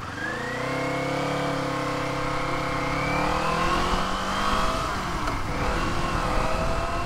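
Kawasaki Eliminator cruiser motorcycle engine running steadily while riding at moderate revs, a continuous close hum with smooth rising and falling tones.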